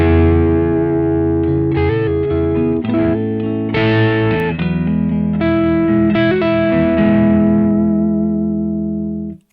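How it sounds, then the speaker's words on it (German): A loud electric guitar strums full chords through a Marshall JCM 800 amp with crunch distortion, chords ringing and changing steadily before a final stop, with no talk. "die Akkorde bleiben erhalten. Das heißt, ihr könnt komplette Akkorde spielen."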